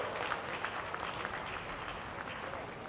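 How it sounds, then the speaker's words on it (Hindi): A crowd claps steadily at a public event in Indore about a Narmada water supply project, continuous dense applause holding at an even level throughout. "ताली तो ऐसी बजना चाहिए जितना बड़ा मैं आंकड़ा बोल रहा हूं"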